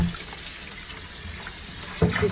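Running water rinses a freshly defeathered organic chicken, a steady close hiss of flowing tap water with a brief splash near the end and no talking.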